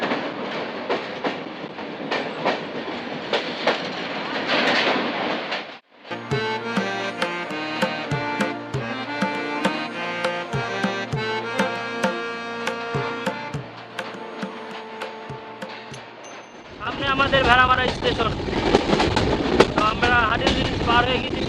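A train crossing from Bangladesh toward India rumbles along the rails with a steady rattling clatter, loud and close inside the carriage, with a harsh roaring stretch, then a pulsing tonal rhythmic section, and finally a rougher windy roar.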